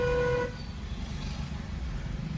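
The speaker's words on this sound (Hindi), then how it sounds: "लॉन्ग हॉर्न प्रेस करो" A car horn blares steadily for about half a second, then cuts off, leaving the low rumble of an idling engine and road noise.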